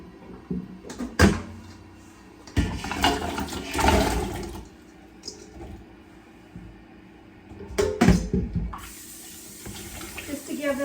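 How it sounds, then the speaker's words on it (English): Tap water runs into a pot in a home kitchen in several bursts, with clattering of the pot and sink between them, close by and moderately loud. "Fill this pot of water,"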